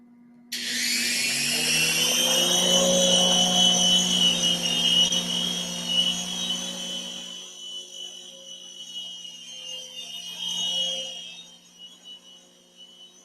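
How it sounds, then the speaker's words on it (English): A small toy helicopter, flown by thought through a NeuroSky MindWave headset, gives off a high, steady motor whine. The whine starts abruptly, holds for several seconds, then fades and wavers before cutting out. "demonstrating how he's able to control the movements of this helicopter here, which is made specifically for use with the NeuroSky MindWave headset"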